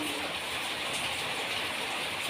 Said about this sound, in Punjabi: ਮੀਂਹ ਦੁਆਰਾ ਫੇਰ ਤੇਜ਼ ਹੋ ਗਿਆ ਕਾਫੀ ਜ਼ਿਆਦਾ